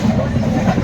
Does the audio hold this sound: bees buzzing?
no